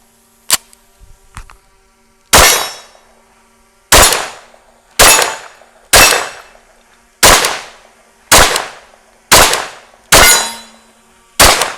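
A B&T TP9 pistol with a rotating barrel firing eight sharp, loud shots at a steady pace of roughly one per second, each with a short ringing decay, after a few faint handling clicks.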